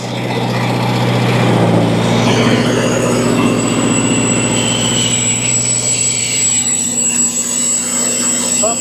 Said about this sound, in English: let it pump like this. This is what they call a single stage air compressor